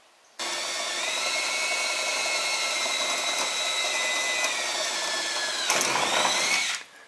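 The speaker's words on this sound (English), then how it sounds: "he's gonna drill through" A power drill bores through the sheet-metal side of a school bus, a steady, close, loud whine that runs unbroken for about six seconds before stopping, with no talking.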